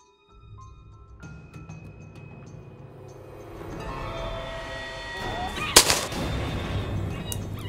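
A single sharp gunshot from a coyote hunt rings out about two-thirds of the way through, loud and close, over a steady outdoor background with some low rumble.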